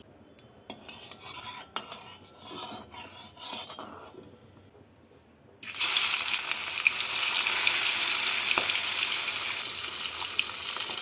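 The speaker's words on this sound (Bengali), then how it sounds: "মাছগুলোকে ভেজে নিচ্ছি" Fish dropped into hot mustard oil in a pan: quiet kitchen clatter and clinks at first, then a sudden loud, dense sizzle that holds steady to the end.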